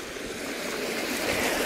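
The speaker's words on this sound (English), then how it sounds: "Water coming off the hills, going under the ground there, and then coming out over it." Stream water running off the hills near Wells and flowing over ground after passing beneath it, heard as a steady, continuous rushing wash close by in a churned-up cow field, with no talking.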